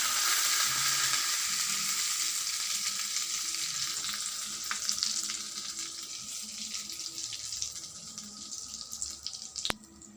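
Chutney tempering in hot oil, a loud, steady frying hiss that slowly eases, with a soft clatter near the end, close by and with no voices.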